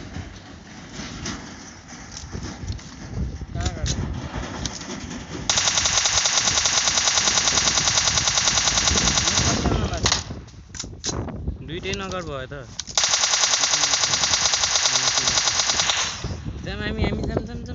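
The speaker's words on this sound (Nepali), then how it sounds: "गोली हाल्नु है" Video game gunfire: long bursts of rapid automatic fire, loud and sustained, broken by quieter gaps, with players talking excitedly over it.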